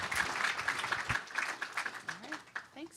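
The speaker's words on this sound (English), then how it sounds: "How about a round of applause?" A panel audience breaks into applause at the close of a faculty discussion, a steady wash of clapping with voices talking over it.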